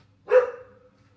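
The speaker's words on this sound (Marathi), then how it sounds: "कुत्रा थांबतच नाही ओरडायचा." A single loud dog bark close by, a sharp yelp-like burst that trails off quickly into near silence.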